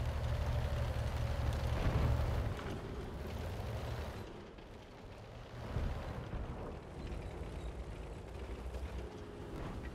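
Heavy 15 cm tank cannons fire in the video game World of Tanks, giving a loud deep boom with a long rumbling tail, followed by another booming shot a few seconds later.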